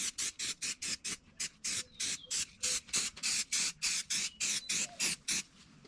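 Rapid repeated short bursts of filler primer spraying from a can onto a Dodge Ram 2500 truck body, evenly paced puffs in quick succession, close up.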